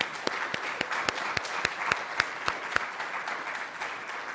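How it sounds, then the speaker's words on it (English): An audience applauds at a lecture honoring Mr. Berkowitz, a few seconds of dense, steady clapping with some individually distinct sharp claps standing out near the front. "let's give a round of applause to them"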